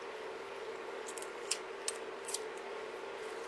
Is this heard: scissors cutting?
yes